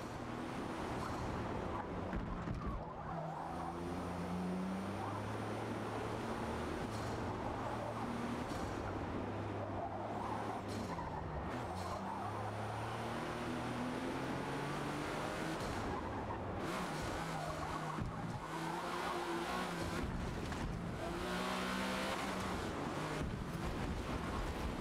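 Race car engine from Forza Motorsport, with a steady loud engine drone rising and falling through gear changes across a continuous lap, mixed with wind-like rushing noise and no talking.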